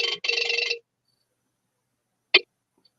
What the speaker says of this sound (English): That sounded like a 1944 phone ring